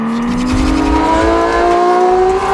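A Porsche 991.2 GT3 flat-six with the sports exhaust mode on revs up steadily, a loud rising howl climbing in pitch over a couple of seconds with no talking.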